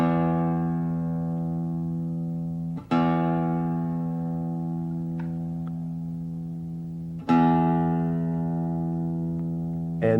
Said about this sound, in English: Let's begin by tuning so that what you play at home sounds like what I'm playing here, and the low E or 6th string.